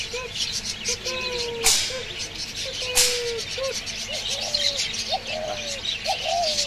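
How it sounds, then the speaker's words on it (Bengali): Soft, repeated spotted dove coos in a low register mixed with chirping birds, over a busy background at a bird and rabbit market with a couple of sharp bangs. "এটা টিলা ঘুঘু বলে না, টিলা ঘুঘু বলা হয়। অনেক সুন্দর একটা পাখি।"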